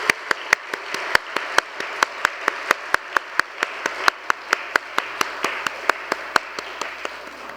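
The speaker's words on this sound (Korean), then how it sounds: "박수하겠습니다. 할렐루야." A church congregation claps together in a steady, rhythmic beat of sharp, evenly spaced hand claps, loud and close, cheering on a visiting elementary Sunday school group at a Friday service.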